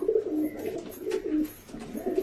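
Highflyer pigeons cooing in a loft, soft repeated throaty coos in a steady rhythm, close and moderately loud with no talking.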